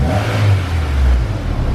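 A car engine revs up close, a steady mid-pitched roar rising and holding for a couple of seconds.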